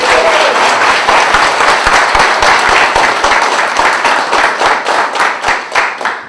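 A crowd at a People's Alliance political rally applauds party leader Chris Austin, loud dense clapping that thins toward the end into scattered individual claps.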